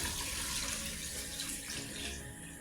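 Water pours steadily into a pot of browned beef for nihari, a close, continuous splashing rush with no talk over it.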